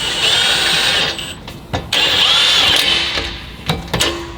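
Bolts being tightened on an axle-back exhaust of a 2022 Subaru WRX, a loud close whirring power tool in bursts of about a second, separated by brief metallic clicks and knocks.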